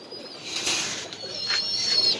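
Budapest pigeons on a farm give soft coos alongside faint higher chirps and rustling, low and steady at close range, with no talking.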